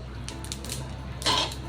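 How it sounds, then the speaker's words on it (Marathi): Sesame seeds dry roasting in a pan, with a quiet steady rustle and then a short, brighter clatter of seeds and metal near the end. "आता मी भाजून घेते तीळ"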